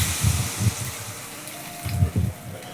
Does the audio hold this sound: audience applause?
no